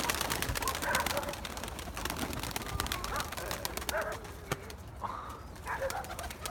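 Pigeons coo softly in a loft where Turkish tumbler-type play pigeons are kept, low repeated calls under rustling and wing movement, with someone speaking nearby.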